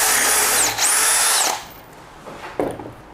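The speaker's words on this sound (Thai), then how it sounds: "เจาะลงไปปุ๊บ แบบนี้แล้วผมก็จะเจาะเจ้าตัวนี้ใกล้ๆกันเลย" A power drill runs loud and close for about a second and a half, its motor pitch dipping briefly as it bites into the material, then stops, followed by a quieter clack.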